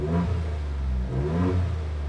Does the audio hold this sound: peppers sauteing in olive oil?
no